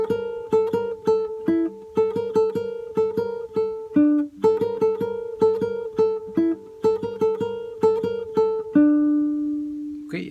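Guitar plays a melodic phrase of a Colombian tune, picked single notes in a steady lively rhythm with repeated ringing tones, ending on a sustained note, close and clear with no talking.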